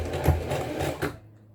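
A sewing machine stitches fabric in a brief, close burst of quick mechanical whirring and ticking that slows and stops after about a second.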